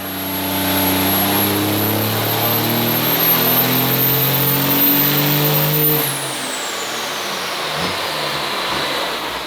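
A 1993 Dodge W250 diesel truck with a 12-valve top end, 6.7 bottom end and S362 SXC turbo revs hard on a dyno, a steady loud drone with a rising turbo whistle that drops off sharply as it lets off.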